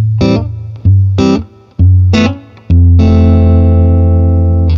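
Amplified electric guitar through a Lazy J 20 Tweed tube amp with reverb: a few punchy plucked phrases, then a long warm chord left ringing and decaying, loud and close.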